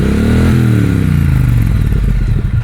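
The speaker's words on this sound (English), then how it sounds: "I'm gonna pop that down next to the bike, give it a rev" Triumph Street Twin motorcycle fitted with a Vance & Hines slip-on exhaust, revved up loud and close, the engine note climbing then holding a steady, throaty drone with no talking.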